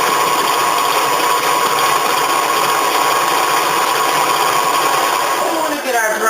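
An electric mixer runs steadily on speed 4, creaming butter and sugar for chocolate chip cookies, a constant loud motor whir with a slight shift near the end.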